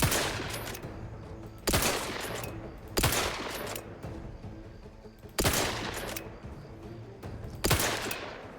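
Gunfire in The Outer Worlds 2, played on very hard difficulty: single loud shots ring out at uneven intervals of about one to two seconds, each with a sharp crack and a reverberant tail over a low ambient rumble.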